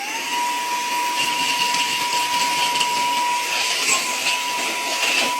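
Compact mini vacuum cleaner for car cleaning running continuously, a loud steady high-pitched whine with a constant motor tone and rushing airflow, no talking.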